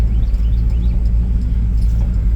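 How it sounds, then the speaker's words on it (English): A 1957 Chevrolet 3100 pickup truck engine rumbles steadily at close range while driving, a low, continuous drone with faint higher whines riding on top, no talking. "Here I am driving around the cul-de-sac without"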